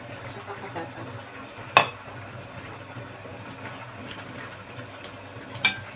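Carrots and potatoes are stirred in a pan for menudo, with quiet scraping and a soft sizzle under it, plus two sharp metallic clinks of a utensil against the pan.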